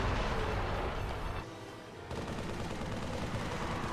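Assault rifle gunfire in the video game Dark Souls rattles as dense continuous bursts, broken by a short lull before the firing resumes, loud and close.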